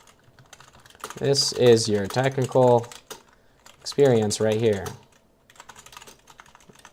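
Rapid clicking of computer keys comes in bursts between stretches of someone speaking close to the microphone, the typing faint and light under and around his voice.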